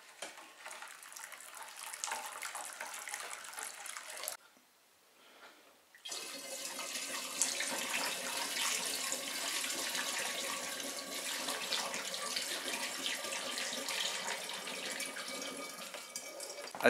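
Elderflower syrup is poured from one container into another, producing a steady splashing liquid stream that breaks briefly in the middle, then resumes and continues at moderate volume.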